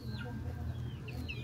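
Three-month-old chickens with colds cluck and chirp at moderate distance over a steady low background hum, a few short calls scattered across the moment.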